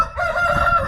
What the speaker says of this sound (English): chickens have entered the other part of the garden